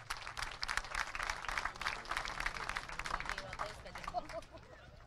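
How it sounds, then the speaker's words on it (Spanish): An audience applauds an engineer being introduced at a university campus handover ceremony in Tarija, Bolivia. The clapping forms a dense, sustained burst of many hands that thins out toward the end. "Le brindamos un caluroso y fuerte aplauso para el ingeniero Gonzalo Gandarillas"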